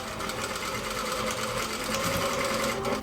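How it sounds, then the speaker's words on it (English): A sewing machine runs a continuous, fast, rattling stitch along a seam on a pair of bloomers, loud and close throughout without pause or voices. "you can now stitch down the whole length of this to make the seam a little bit prettier"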